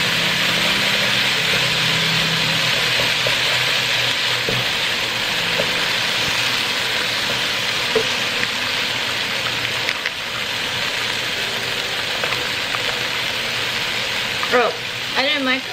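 Onion, carrot and zucchini fry in a pan for fried rice, giving a steady loud sizzle and hiss that runs unbroken throughout, with faint clinks and utensil scrapes on top.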